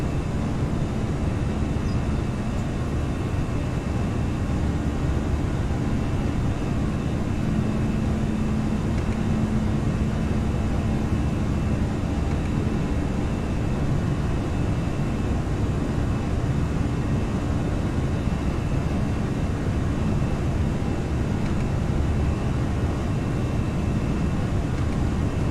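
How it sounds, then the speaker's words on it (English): An airliner in the X-Plane 11 flight simulator, hand-flown on a slow departure out of Port Blair, gives off a steady, unbroken engine roar that holds level throughout with no other sounds on top. "Slow and steady departure out of Port Blair. Still hand flying this baby."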